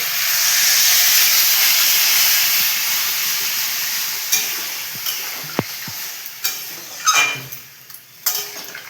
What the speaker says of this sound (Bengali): এবার জল দিয়ে একটু সেদ্ধ করে দিই আনাজগুলো